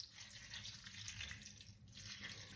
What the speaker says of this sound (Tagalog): Lagyan pa pala natin ng konting tubig kasi parang konti lang yung tubig ko